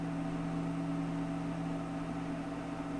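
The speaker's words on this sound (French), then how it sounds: "le plateau descend lentement mais sûrement" A Hieha SQ1 resin 3D printer's build plate descending, a steady motor hum with a low tonal whine that holds unchanged throughout, close and continuous with no talking.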